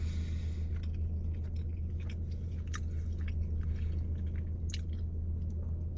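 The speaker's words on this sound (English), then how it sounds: "Let me stop chewing." Someone chews food close to the microphone, soft wet crunching and squishing bites over a constant low hum.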